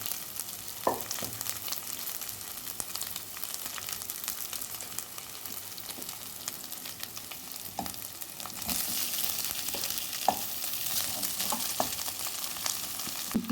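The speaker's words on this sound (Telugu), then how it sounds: "ఇప్పుడు దీన్ని కలిపేద్దాము, బాగా కలుపుకుందాం" Leftover rice for egg fried rice stirred and fried in a pan, a soft continuous sizzle with scattered scraping clinks of a spatula, growing slightly louder near the end.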